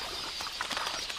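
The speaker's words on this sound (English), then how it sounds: "The predator sizes up its prey, these quelea, which flock in the thousands." Flock of quelea birds flapping their wings, a soft, fluttering whir of many wingbeats with light rustling bursts, faint and continuous.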